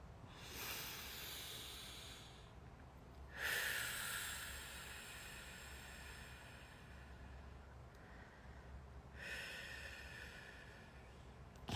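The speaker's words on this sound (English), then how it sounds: "So take a deep breath." Slow, deep breaths drawn and released in long, airy hisses, three soft passes separated by quiet gaps, close and gentle with no talking.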